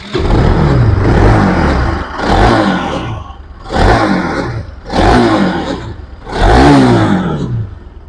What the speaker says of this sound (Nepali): अब बाइकको साउन्ड सुन्नुस् कस्तो छ